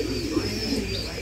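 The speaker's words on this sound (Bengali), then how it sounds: "কবুতরগুলো এই আম গাছের উপরে আছে" Pigeons cooing up in a mango tree, a soft low throaty coo held steady across the brief moment, moderately close with a faint background hiss and no talk.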